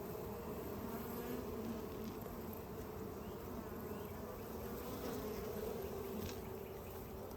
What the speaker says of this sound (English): Lots of good looking bees.